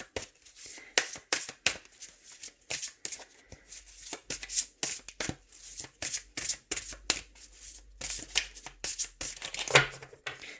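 Deck of oracle cards shuffled by hand, a steady run of quick papery riffles and snaps lasting throughout, close and fairly loud with no voices.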